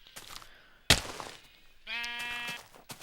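A sheep in Minecraft bleats once in a short, tonal cry, close and clear, after a sharp thunk and some quiet game noises.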